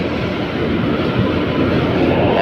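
North East Express train hauled by a Ghaziabad shed WAP-7 locomotive, a loud steady low rumble and roar of the passing train, continuous with no talking.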